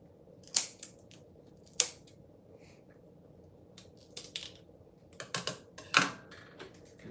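Scissors snip at lobster skin in a few sharp, close, separate cuts, with quiet pauses between them and a brief cluster of clicks near the end.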